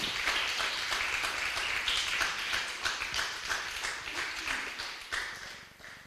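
Church congregation applauding in praise to the King during a Spanish-language worship service, a dense steady wash of clapping throughout that thins slightly at the end.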